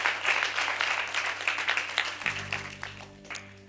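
A church congregation applauds a married couple, with a dense burst of clapping that thins out toward the end as a low organ or keyboard tone comes in underneath.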